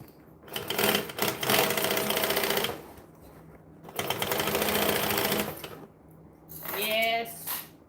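A sewing machine stitches a bag in two long bursts of rapid, steady running, each a few seconds long, with a short pause between them and a brief fainter whir near the end, followed by a voice.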